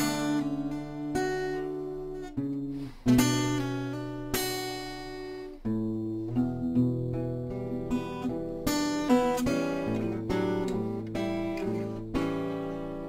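An acoustic guitar plays the strummed and picked chord progression of the intro to a song alone, notes ringing clearly with steady rhythm and no voices.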